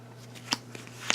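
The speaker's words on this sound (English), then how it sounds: "our cards are shuffled" Playing cards are shuffled during a tabletop board game, giving a few soft, quick riffling snaps over a faint steady hum, quiet and close.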